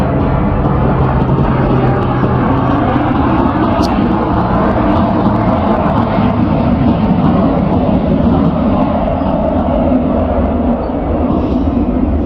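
An airplane roars steadily overhead as a loud, continuous broadband drone that holds through the whole stretch with no talk.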